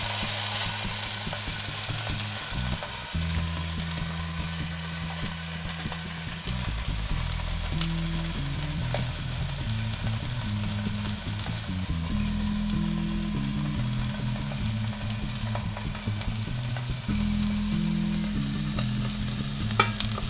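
Tuna fillet sizzles in an oiled pan, a steady, close frying hiss that runs for twenty seconds with bursts of crackle and low clatter of the pan shifting; no one speaks.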